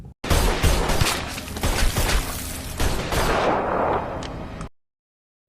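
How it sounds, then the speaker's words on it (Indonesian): Rapid gunfire in a film shootout, a dense burst of loud overlapping shots and cracks for several seconds before it stops abruptly into silence. "mendapat perlawanan dari Mike yang membuat keduanya harus terlibat sedikit aksi baku tembak"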